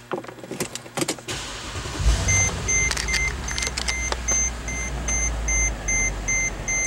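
A 2011 Mercedes-Benz GL550 4matic being started from inside the cabin: clicks and key-like jingles, repeated high warning chimes, then the engine catches into a steady low idle hum.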